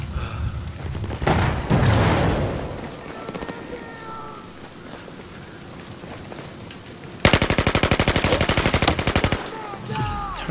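An M416 rifle in Battlefield 4 fires a loud, rapid automatic burst lasting about two seconds, then a short follow-up burst, after a stretch of quieter game noise and scattered shots.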